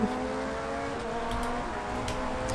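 Porsche 919 prototype race cars in Project CARS 2 give off a constant high engine whine with layered harmonics, running side by side at speed through chicanes, loud and steady.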